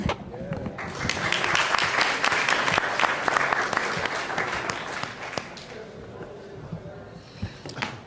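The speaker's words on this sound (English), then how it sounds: "Let's give her another round of applause for all of her fearless advocacy." Loud, sustained applause from a conference audience honoring a congresswoman, dense clapping that swells early and tapers off, with a voice speaking over the end.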